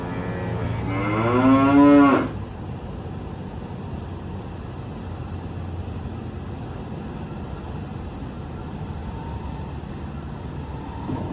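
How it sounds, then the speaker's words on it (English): A single cow moos loudly and close by for about two seconds, a drawn-out low call, followed by a steady quiet ambient hush with no further calls. "Ooh, watch out for that cow."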